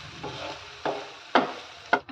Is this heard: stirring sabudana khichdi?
yes